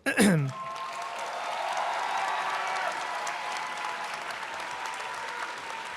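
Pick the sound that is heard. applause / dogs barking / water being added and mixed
applause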